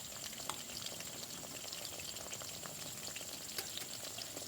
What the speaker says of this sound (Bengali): তো এইভাবে আমি সবগুলো ভেজে নেব